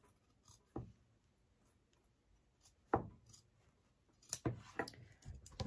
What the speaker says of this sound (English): I'm just going to take my scissors and I'm just going to cut around very carefully.